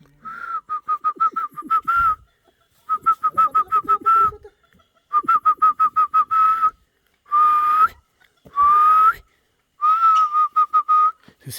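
A colourful bird in the Peruvian Amazon near Iquitos whistles in loud, rapid trilled bursts of repeated clear notes, several phrases separated by short pauses, close by and alone.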